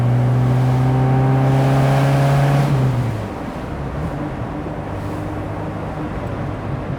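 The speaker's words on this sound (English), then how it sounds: "listen to that, one of the greatest automotive sounds, an Alfa Romeo Twin Cam" The Twin Cam engine of a 1987 Alfa Romeo Spider revs hard with a rising, harmonic-rich wail that cuts off abruptly, then settles into a lower, steady rumble while driving.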